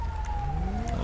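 A wailing emergency siren from an ambulance in the GTA 5 video game, a single sweeping tone gliding steadily downward, heard alone over a low engine rumble for about a second.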